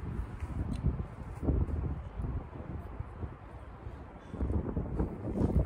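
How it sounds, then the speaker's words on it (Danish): Gusty wind buffets the microphone outdoors by the harbour, a low rumbling rush that swells and eases in uneven waves, close and fairly loud with faint rustling. "Det er lidt koldt, fordi det blæser lidt."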